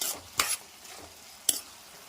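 A spatula stirs prawn pickle frying in a pan, making two short, scraping strokes over a faint background sizzle.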